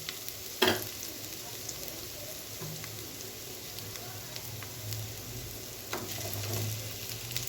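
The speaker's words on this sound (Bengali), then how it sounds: "এই আলুগুলো দিয়ে একটুখানি এটা ভেজে নিয়ে" Potatoes fry in a pan with onions or spices already browned, making a faint, steady sizzle broken by a few soft utensil clinks.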